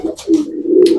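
A black pigeon, one of a newly paired couple kept in a home loft, gives a single short, throaty coo, close and clear, lasting about a second with no talking.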